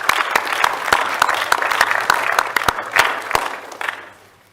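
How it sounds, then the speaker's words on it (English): A round of applause from attendees at a county board of commissioners' regular meeting, with many hands clapping at a steady, moderate level and sharp individual claps standing out, then tapering off toward the end. "I think a round of applause is appropriate."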